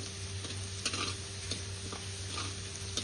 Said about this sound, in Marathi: मस्तपैकी चांगला लालसर असा तळून घ्यायचं चांगला लसूण